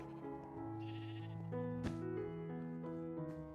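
Minecraft sheep bleating in the video game, a couple of wavering, nasal bleats close and clear with no talk over them.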